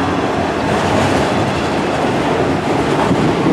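Norfolk Southern autorack freight train rolling past at close range in Spartanburg, SC, a loud continuous roar of wheels and rail noise with steady clatter throughout.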